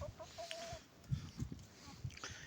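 A rooster clucking nearby, a few short low calls and a brief higher tone among scattered scuffling noises, moderately quiet, with no talking.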